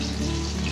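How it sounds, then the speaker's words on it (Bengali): Fish frying in a pan of hot oil, a steady close sizzle with a constant crackling hiss that holds even for the whole short stretch. "এই যে মাছ ভাজা হচ্ছে"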